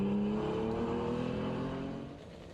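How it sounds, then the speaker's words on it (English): A triple-carb Holden six-cylinder race car at a historic sprint meet, engine roaring loud and close as it accelerates down the straight, then fading slightly as it pulls away. "Unmistakable sound of a triple carbide Holden 6 as he heads down the straight into turn 2"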